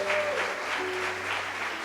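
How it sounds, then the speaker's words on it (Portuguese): A church congregation applauds during a Portuguese-language sermon: steady, dense clapping fills the whole stretch at an even level, with sustained keyboard or organ tones faintly underneath. "Você pode aplaudir Jesus por isso?"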